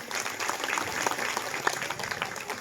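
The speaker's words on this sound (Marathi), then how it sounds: "एकदा सगळ्यांनी टाळी वाजवा बरं." Applause from an audience at a Marathi kirtan during a Chaturthi food-donation gathering, a steady dense patter of many hands throughout, moderately distant and without clear peaks.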